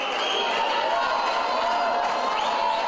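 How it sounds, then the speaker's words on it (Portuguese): Futsal supporters in the stands of an indoor court at Paulo de Frontin cheer and chant as a steady, dense crowd roar with no single voice standing out. "Uma torcida que empurra"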